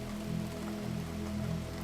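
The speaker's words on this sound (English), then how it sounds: "the rain beginning to tap its gentle fingers against the roof and windows" Gentle rain tapping on a roof and windows, a soft, even patter that stays constant under a low steady hum.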